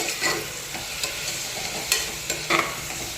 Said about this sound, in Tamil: பாருங்கள், வெங்காயம் நல்லா வதங்கிட்டு இருக்கு.